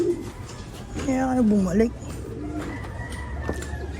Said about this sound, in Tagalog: Mga ibon natin nagliliparan pa para.